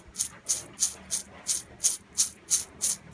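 A rough, raspy whirring pulses in a regular rhythm, about three cycles per second, as an unoiled swing arm bushing on a Yamaha Vixion motorcycle spins unevenly up close.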